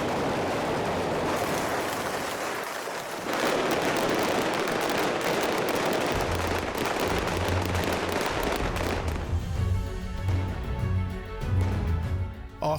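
Pyrotechnic gunfire effects set off on a Bond film set in an Italian square: a dense, continuous crackle of rapid blasts filling the air, loud and unbroken, with heavier low thumps joining partway through.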